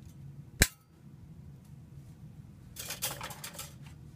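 Section of tube being cut for a homemade blowgun: one sharp, loud snap, followed after a pause by a softer stretch of scraping and rustling.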